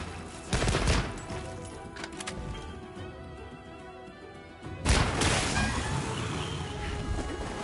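Gunfire in Assassin's Creed Shadows: a loud burst of shots near the start, a stretch of quieter clicking and handling like a reload, then another loud shot and rumbling tail.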